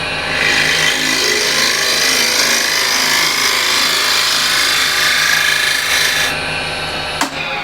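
A hand scraper drawn across the side grain of a chestnut wood surface gives a steady, close, dry rasping scrape that runs almost continuously before stopping abruptly, with no talking.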